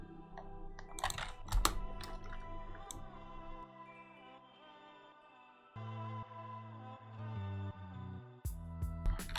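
Keystrokes on a computer keyboard during Blender camera-animation rendering, spacebar and Shift F pressed in short bursts of clicks and taps over a faint background hum, close and fairly quiet, with no talking.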